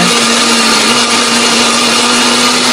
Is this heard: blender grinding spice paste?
yes